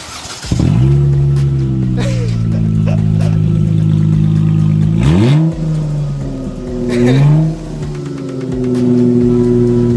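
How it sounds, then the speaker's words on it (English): A 2018 Dodge Charger V6 with its muffler removed roars and revs with a raw, unmuffled rasp, pitch rising and falling through several throttle blips before settling into a steady growl. "we just took the exhaust out. We're gonna see how it sounds without it"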